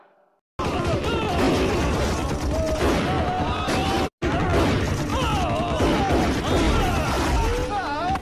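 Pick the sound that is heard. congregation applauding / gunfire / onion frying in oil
gunfire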